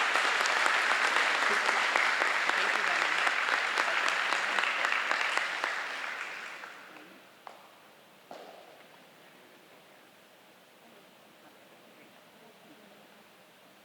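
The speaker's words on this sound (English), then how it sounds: "But these two deserve a round of applause." A school audience applauds two 8th grade students at a recognition ceremony, a dense sustained round of clapping that fades out after several seconds, followed by a brief spoken thank-you.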